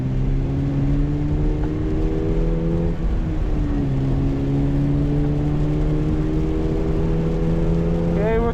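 A 2023 Subaru BRZ engine drones loudly and steadily from inside the cabin while drifting, pitch sliding and rising with throttle changes, a brief dip mid-run, tyre noise blended under the engine, no audible talk.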